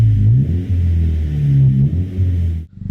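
Honda Civic Si coupe exhaust revving up close: loud, deep rumbling blips rise and fall in pitch several times, then cut off sharply near the end.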